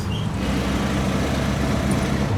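Dense road traffic with motorbikes in Jakarta, Indonesia, a continuous close rumble of engines and tyres with no distinct horn or voice standing out.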